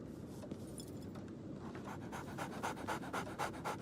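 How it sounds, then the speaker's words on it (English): A dog panting in Sherlock Holmes The Awakened: quick rhythmic breaths that start faint and grow louder and closer, steady and unbroken, with no talk. "So, Barnes has a dog now."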